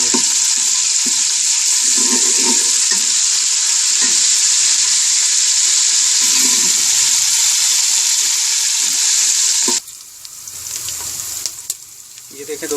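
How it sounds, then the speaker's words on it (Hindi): Onions fry in ghee with cumin seeds and bay leaves, giving a loud, constant sizzle with bubbling crackle for about ten seconds before it drops off abruptly to quieter scraping and clatter. "ये देखें दोस्तों, प्याज हल्के से हो गए हैं फ्राई"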